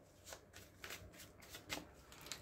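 Tarot cards being shuffled before a reading, a close, quiet run of riffling flutters repeating in quick bursts.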